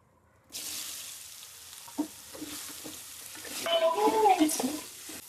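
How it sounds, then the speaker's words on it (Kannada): Soya chunks tipped into a hot pan of frying chili powder and cumin powder, then stirred: a steady close sizzle with scraping spatula strokes, growing louder toward the end, with faint voices in the background. "ಈಗ ಇದಕ್ಕೆ ನಾನು ಸೋಯಾ ಹಾಕುತ್ತೀನಿ"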